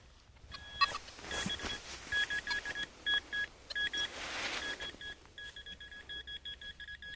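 A Deus 2 metal detector gives repeated high electronic beeps in short irregular bursts in a forest, with faint scraping and rustling in the background.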